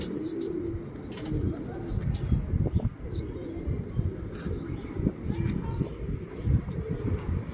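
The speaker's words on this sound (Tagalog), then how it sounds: "Ayan ating mga ibon." Racing pigeons coo in low, repeated murmurs outdoors, steady through the whole stretch over strong wind rumble, with a few faint chirps above.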